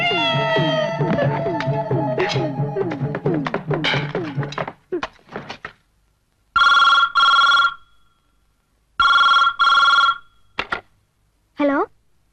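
A telephone rings in repeated long bursts with silent gaps between them, following a stretch of speech and music in a house scene from a Malayalam comedy film.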